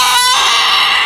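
A village hen gives a short, loud squawk at close range, then a noisy hiss follows for the rest of the moment.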